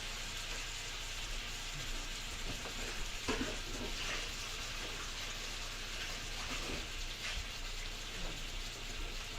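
Peppers and onions frying in a pan, a steady quiet sizzle with faint crackles and occasional soft clinks, continuous throughout with no talking.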